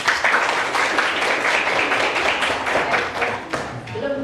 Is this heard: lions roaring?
no